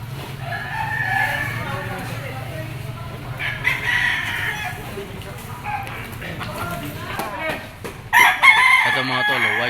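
Gamefowl roosters crowing at a market in Lipa, Batangas, several loud crows rising over someone talking nearby, with a sharp close crow near the end.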